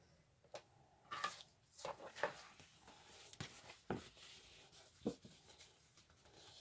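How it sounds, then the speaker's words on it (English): A tool drawn firmly along paper to score a fold line for a handmade lapbook spine, giving a few soft, scratchy strokes spaced apart at close range in a quiet room. "I just want to score that real good without tearing through it"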